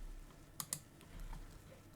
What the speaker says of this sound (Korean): 자판에서 F10을 누르시면